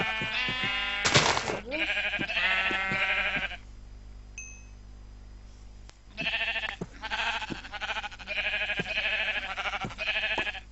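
Sheep in the Minecraft video game bleat repeatedly in loud, wavering cries, broken by a short pause with a small chime before the bleating resumes in several bursts. No one speaks.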